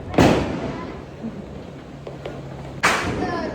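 Two sharp Diwali firecracker bangs, one near the start and another near the end, with quieter background noise between them.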